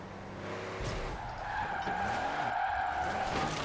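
A truck drifts in Forza Horizon 4, tires skidding in a long, sustained squeal over a rumbling engine, loud and close throughout.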